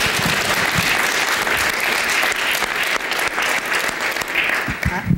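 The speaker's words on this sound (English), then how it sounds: "How about a round of applause just for" Audience applause at a leadership forum, dense sustained clapping from a full room, loud and continuous for several seconds before easing slightly near the end.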